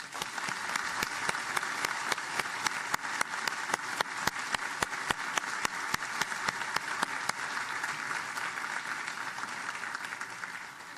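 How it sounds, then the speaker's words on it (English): A crowd at the 2019 U.S. Coast Guard commissioning ceremony for the cutter Benjamin Bottoms gives a long, steady round of applause, dense clapping sustained at an even level throughout, with sharper individual claps standing out. "Please join me in a big round of applause in his honor."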